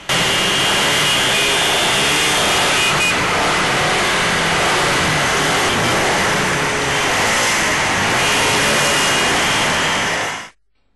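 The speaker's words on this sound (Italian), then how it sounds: "a salutare per l'ultima volta il condottiero è stato il rombo dei motori" Engines roar loudly and continuously in a farewell salute to a departed leader, a dense sustained wall of motor noise that holds steady for about ten seconds before cutting off abruptly.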